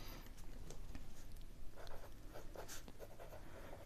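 Pen writing on paper while working a Class 6 algebra exercise, a steady close scratching of strokes running throughout with no talk.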